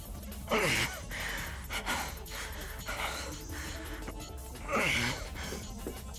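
Heavy, ragged panting from a character in the visual novel Fate/Stay Night, with breathy gasps recurring at irregular intervals, close and fairly quiet over a faint background.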